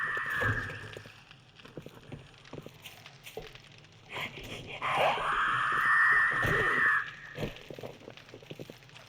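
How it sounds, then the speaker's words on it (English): A zombie in the survival game 7 Days to Die lets out a loud, sustained shriek lasting a couple of seconds amid scattered game noise, with a shorter cry just before it. "She screamed awful fast."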